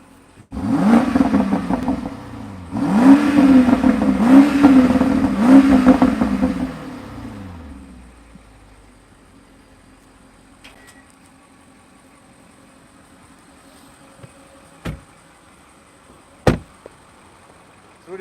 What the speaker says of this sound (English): let me rev it real quick